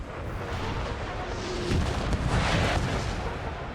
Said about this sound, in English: that artillery shows no mercy